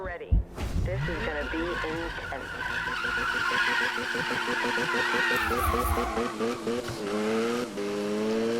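A Mazda RX-7 drift car in Need for Speed 2015, engine revving and tires squealing steadily through a long slide, loud and close, with a voice talking over it.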